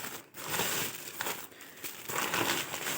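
Plastic bags from a weekly grocery haul rustle and crinkle up close for a few seconds, with dense, continuous crackling and no talking.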